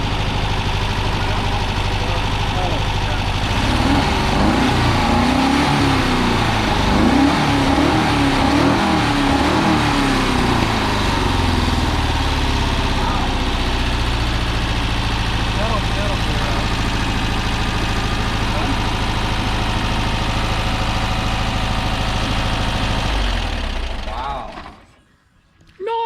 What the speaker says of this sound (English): Give it some revy revs.